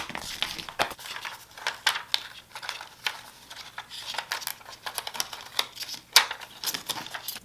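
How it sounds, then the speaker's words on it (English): A Cricut Joy cutting machine slicing through paper on its mat, giving a fast, irregular run of crisp ticking and scratchy clicks, fairly close and steady, with no talking. "I'm just cutting out so I can save the rest of the paper for later."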